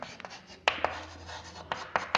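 A pen scratches across paper by hand during a maths lesson, with soft continuous strokes broken by several sharp taps, close and fairly quiet.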